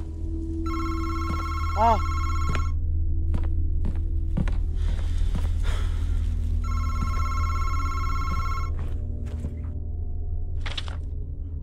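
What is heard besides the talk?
telephone ringing in a video game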